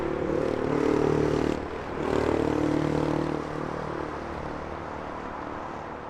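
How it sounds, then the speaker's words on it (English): A Gulf Air airliner in retro livery touching down on runway 27 left at Heathrow, a loud broadband engine roar with low droning tones that swells twice and then eases off to a lower, steadier rumble. "Nice retro liveried Gulf Air, touching down on 27 left"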